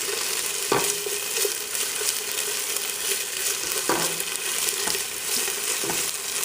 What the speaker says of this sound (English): It already smells really good in here with the ginger and the garlic and the tomato paste cooking.